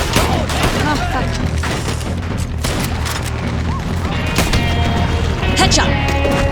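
Dense gunfire in the Western shooter Red Dead Redemption 2, with rapid overlapping shots and booms close and loud throughout, and voices shouting over the battle.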